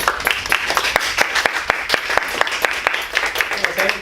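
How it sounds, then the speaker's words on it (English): Audience applause with scattered claps at a speaking club's table topics session, a steady patter of hands lasting several seconds with some voices mixed in. "Clap right up for him."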